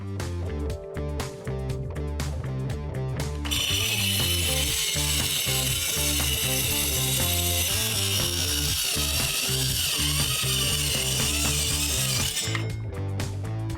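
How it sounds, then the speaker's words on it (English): Small circular saw cutting a wooden stair riser, the blade whining loudly and steadily through the cut for about nine seconds, with the motor running before and after. "I'm going to use this small circular saw."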